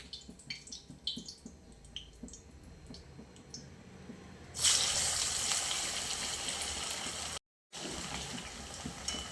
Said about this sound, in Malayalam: ഇനി ഇതിലേക്ക് മസാല പുരട്ടി വെച്ചിരിക്കുന്ന ചിക്കൻ കഷ്ണങ്ങൾ ഓരോന്നായി ഇട്ട് ഫ്രൈ ചെയ്തെടുക്കാം